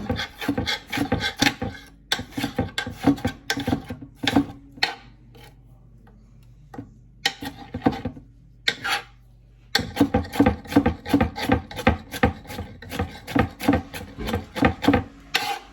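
A knife chops white onion very small on a cutting board, giving quick steady taps in bursts with a short pause midway, close and clear with no talking.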